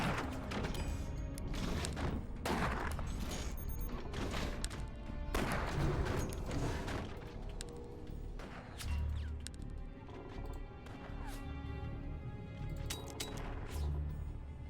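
Weapons fire aimed at an enemy mine in the strategy game Forts, a run of sharp thuds and crashing impacts at moderate volume, busiest early on and thinning to scattered knocks.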